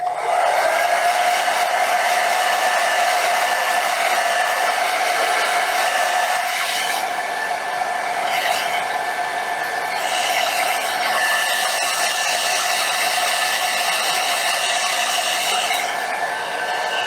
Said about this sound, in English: I'm going to use my blow dryer to quickly dry this layer.